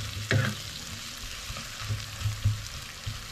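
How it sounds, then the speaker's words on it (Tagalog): Onions for a chicken curry fry in a pan with a close, steady sizzle, broken by several clattering stirs and scrapes in an uneven rhythm, with no voices. "isunod na natin ang sibuyas"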